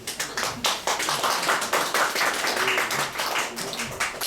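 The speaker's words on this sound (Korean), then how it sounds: "박수 한번" An audience claps during a church sound-engineering lecture, with a burst of dense, close applause that holds steady for several seconds, then thins out toward the end.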